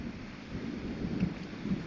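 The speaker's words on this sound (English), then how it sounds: "We don't usually get thunderstorms in the morning like this." A morning thunderstorm, faint and distant, gives a low rolling rumble of thunder over a steady hiss of rain, with no one talking.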